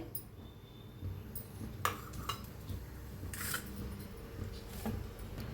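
Dry coconut, sesame, garlic and coriander are dry-roasted in a pan with no sizzle, only a spatula scraping and giving a few distinct metallic clinks against the pan at intervals. The sounds are close, fairly quiet, and there is no talk.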